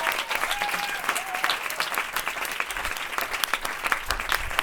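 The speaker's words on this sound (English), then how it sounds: "let's give a huge round of applause to Luca and Ami" An audience gives a round of applause, many hands clapping in a steady, dense patter with sharp individual claps standing out, moderately loud and without speech.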